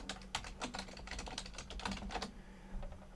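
A password being typed on a computer keyboard: a quick run of soft, close key clicks in uneven bursts, quiet and with no voices.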